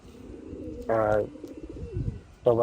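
Pet pigeons give two loud, close bursts of throaty cooing, one early and one at the end. Softer low murmuring and a voice fill the gap between them.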